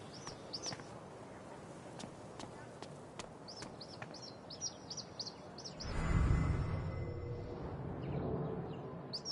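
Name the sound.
hawk calls in Life is Strange: True Colors video game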